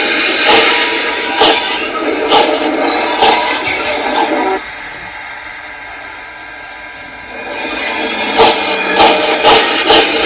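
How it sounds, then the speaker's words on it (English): Digital sound of an LGB Mikado model locomotive with a Zimo decoder, a steady mechanical running hum with periodic chuffing pulses and a higher metallic flange squeal, close and moderately loud. "F9 is a flange squeal, and it only plays with the locomotive moving."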